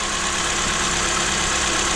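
A 2013 Mazda 3 Skyactiv engine idles after an oil pressure switch replacement, giving a steady, even mechanical hum with its belts running, heard close up with no talking.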